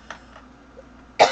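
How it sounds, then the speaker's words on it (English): A single sharp cough bursts out near the end after a few quiet, faint throat sounds, close and loud. "I have been coughing for the past couple minutes trying to get set up"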